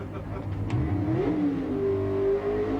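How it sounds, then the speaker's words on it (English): A Ford Cortina drag car at a 1989 ANDRA drag racing meet revs its engine as it creeps in on the clutch, a steady rising growl, with a commentator talking over it. "Brings the revs up, he'll creep the car in on the clutch."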